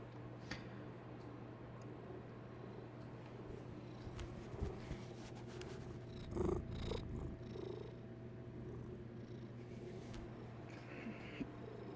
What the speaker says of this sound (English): She has a pretty strong purr.